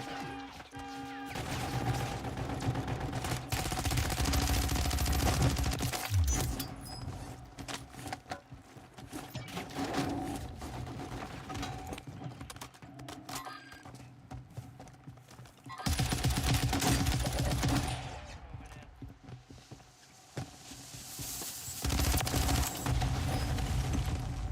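Video game gunfire arrives in dense bursts of rapid shots with loud crashes and mechanical clatter, pausing between volleys and resuming heavily later in the sequence.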